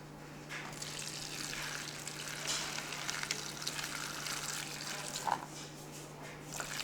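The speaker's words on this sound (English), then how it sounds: "You just fill up the little tray on the bottom and it just soaks it up into the little seed packs." Water pours steadily into the bottom reservoir of a plastic seed starter tray holding small seed packs, a close, continuous splashing hiss lasting throughout with a brief brighter splash near the end.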